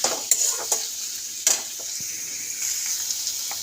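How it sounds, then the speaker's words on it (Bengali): Constant hissing sizzle of koi fish frying in hot oil with black cumin, close up, with a few sharp clicks of a utensil against the pan. "এই যে ভাজা হচ্ছে"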